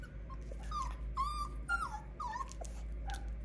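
A mini goldendoodle puppy whimpers and whines in a series of high, wavering cries, close and fairly clear over a low steady hum.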